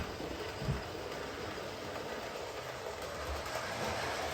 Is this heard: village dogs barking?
no